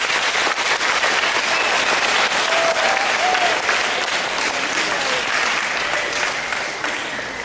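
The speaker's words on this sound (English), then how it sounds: "Clap if you agree with me." Audience applause, a large crowd clapping loudly and steadily throughout, dense and sustained with a slight tapering near the end.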